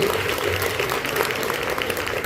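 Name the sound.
congregation clapping hands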